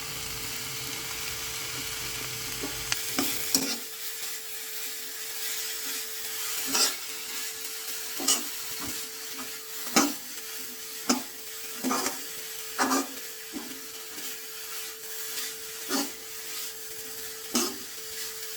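Coconut and crushed garlic being stirred into kodithoova thoran in a pan, a soft ongoing sizzle with regular spoon scrapes and knocks against the pan, close and unaccompanied by talk.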